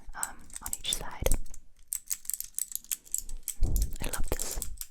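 Keycaps on a small ASMR trigger device clicked in quick, close bursts, with soft whispering woven between the taps.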